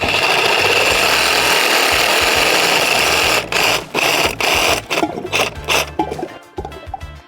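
Pool plumbing pipe being cut out with a hand saw: a steady, loud, close rasping drone for several seconds, then breaking into short, choppy strokes with brief pauses as the cut finishes.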